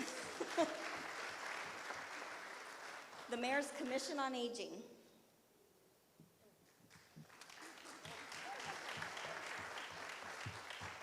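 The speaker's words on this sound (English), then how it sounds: "Let's give them a round of applause." Audience at a mayoral candidate forum applauding community groups, a broad crowd clapping that dips briefly, with a speaker talking over parts of it and occasional cheers.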